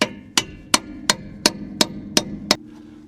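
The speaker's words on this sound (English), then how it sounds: "Let's see if I can't just hammer and chisel those pins off" Eight sharp, evenly spaced metal-on-metal strikes ring out as a hammer drives a chisel against seized pins on an old, long-frozen Mercury Montclair car, each blow loud and close with a short ring, followed by a faint lower tone.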